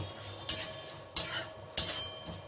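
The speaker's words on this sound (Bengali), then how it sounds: "এইটা আমি এর সঙ্গে ভেজে নেব" Fried urad dal and spices being stirred in a pan, three sharp scraping strokes of a spatula at regular intervals over a soft background sizzle.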